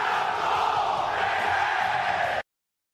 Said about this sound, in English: God, I love that button. Makes you feel like you're in a crowd